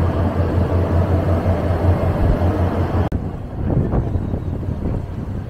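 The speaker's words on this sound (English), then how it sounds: "It's quite a fast boat actually, a lot faster than I was expecting." A fast passenger boat crossing open sea toward Albania, with steady loud engine drone and wind buffeting the microphone on the open top deck, a sudden cut midway then gusty wind and rumble continuing.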